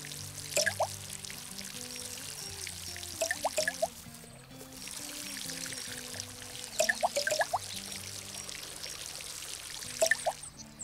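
In the Garden Simulator video game, a watering can pours a steady stream of water for several seconds, pauses briefly, then resumes. Sharp dripping plinks land over the continuous flow.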